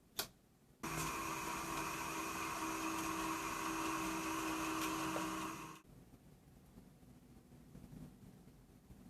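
Bernina sewing machine motor whirring steadily as it winds thread onto a bobbin, starting abruptly after a click, running for about five seconds at an even pitch, then stopping, leaving quiet room noise.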